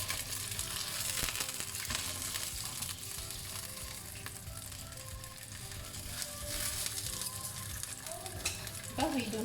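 Skin-on sea bass frying in a pan for a sweet and sour dish after being flipped: a steady, close, crackling sizzle throughout, with a brief utensil clatter near the end.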